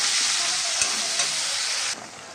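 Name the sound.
stir-frying ground spice paste with fried potatoes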